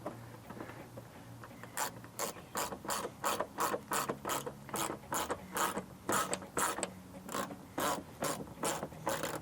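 Ratchet wrench clicking in quick, steady bursts as 10mm blacked-out bolts are tightened on a Toyota 4Runner mud flap delete bracket, close and clear with no talking.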